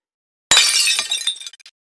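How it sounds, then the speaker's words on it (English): A device knocked off a table shatters in a video game, one loud abrupt glass-like break with scattering fragments tinkling out over about a second, heard alone. "During its escapades, it knocks the big eye off the table, causing it to shatter into pieces."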